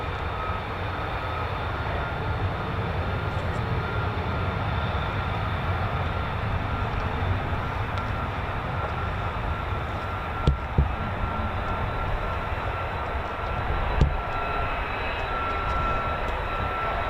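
An F-35A fighter jet taxiing at RAF Lakenheath gives off a steady, broad engine roar that holds at an even loudness throughout, with a couple of short sharp knocks partway through and no talking.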